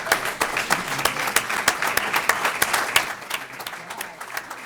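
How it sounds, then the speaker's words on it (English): Audience applause at a city's 2026 State of the City Address, a steady wash of many hands clapping that carries on through the whole stretch with sharp individual claps standing out. "Applause."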